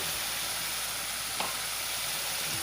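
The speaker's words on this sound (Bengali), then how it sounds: "এখন এর মধ্যে অল্প দিয়ে দেব কালি জিরে।" Nigella seeds (kalonji) dropped into hot oil alongside whole green chilies: a constant, even sizzle and hiss throughout, with one faint clink midway and no voices.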